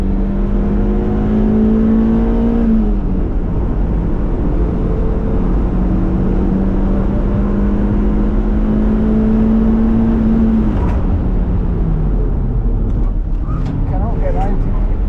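Tuned diesel car, either a 356 BHP VW Caddy or a 342 BHP Audi S5 TDI, droning loudly and steadily under sustained revs on a race track as it drifts, with the engine note rising and dipping. People talk over it.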